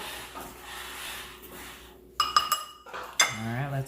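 Salt and paprika being mixed in a bowl, a few bright metallic clinks of a utensil against the dish, close by, after a quiet stretch, with a voice speaking briefly near the end.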